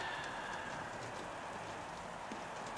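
A steady hiss of rain in a racing video game, F1 2016, at Melbourne, even and unbroken throughout, with no talking.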